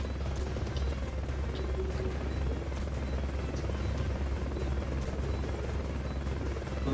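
A helicopter in the video game Metal Gear Solid: Peace Walker gives a steady, dense rotor drone and rumble, continuous and fairly loud throughout, with no clear talk over it.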